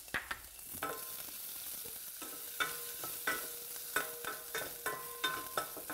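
Chopped garlic sautés in olive oil, a soft steady sizzle punctuated by a rhythmic series of sharp spatula taps and scrapes against the pan, fairly quiet and close.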